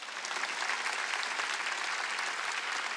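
Steady applause from a church congregation at a Wednesday worship service, dense and continuous clapping throughout, moderately distant with no speech over it.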